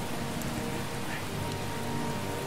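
Steady, dense rainfall from the video game Heavy Rain, a continuous hiss of drops on surfaces at even loudness with no breaks.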